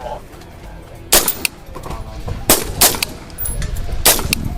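A SIG Sauer MCX LT rifle fires at an outdoor demo range, with sharp, loud reports at about 1.1, 2.5, 2.8 and 4.1 seconds and a quieter pop between them, over low background noise and some distant talk.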